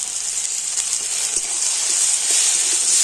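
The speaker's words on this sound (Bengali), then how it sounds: "সমস্ত কিছু একটু হালকা করে আমি কষে নিচ্ছি" Spices with a ground cashew and poppy seed paste, turmeric and cumin powder sizzle in a pan, a steady close hiss throughout with faint stirring taps.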